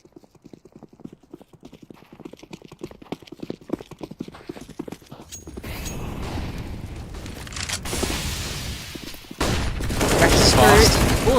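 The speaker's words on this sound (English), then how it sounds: "Oh, the flashbang is good." In a Counter-Strike match, rapid clacking steps give way to a burst of gunfire and a loud flashbang blast, with a dense roar of shots and explosions rising toward the end.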